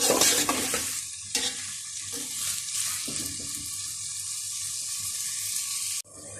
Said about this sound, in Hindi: अब मैंने प्याज डाल दिए घी में। ये देखिए प्याज फ्राई हो रहे हैं।